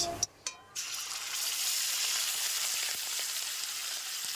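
Onion paste hits hot oil in a wok with whole garam masala, starting with a couple of quick taps and then settling into a loud, steady, close sizzle that hisses on without a break.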